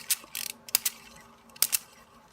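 Plastic Beast Wars Transformers Grimlock Dinobot figure's Velociraptor tail being split open into a rotor blade weapon: several sharp plastic clicks and snaps in short clusters, close and fairly quiet, with no talking.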